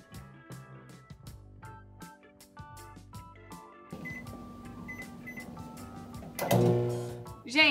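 A kitchen microwave oven heating a thick batter mixture hums steadily in the second half, after a stretch of button beeps and clatter, ending with a louder burst of handling noise.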